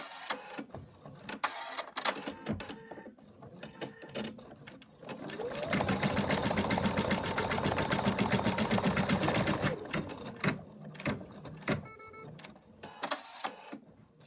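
An embroidery machine stitches a teddy bear design on fabric, running loud and steady for about four seconds with a busy, rapid mechanical whir, framed by quieter handling and clicking before and after.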